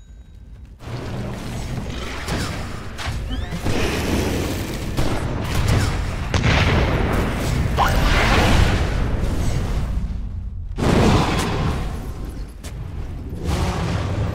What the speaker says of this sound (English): Radiant's middle tower is under attack! Explosions!